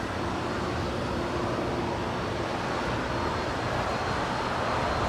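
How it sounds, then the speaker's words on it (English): A JetBlue Airbus A321neo arrives at LAX on a flight from JFK, a steady, unbroken broadband roar holding at an even, moderately loud level throughout, with no voices. "That right there is JetBlue Airways Flight 123 coming in from JFK."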